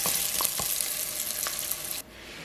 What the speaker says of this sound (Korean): 냄비가 달아오르면 약불로 줄이고 마늘의 향을 내주세요.